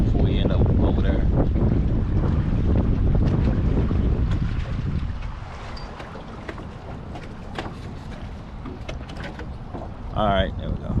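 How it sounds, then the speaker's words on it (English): A fishing boat turns on open water, its motor droning steadily under heavy wind buffeting the microphone, easing a little midway, with a brief voice near the end. "let me turn this boat before we end up over there"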